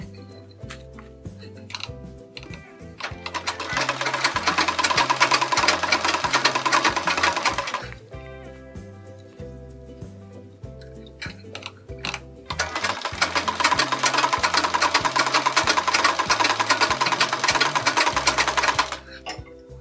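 A sewing machine stitches folded fabric pieces for a sleeve design in two long, steady runs, each several seconds long, close and loud, with a quieter gap between them.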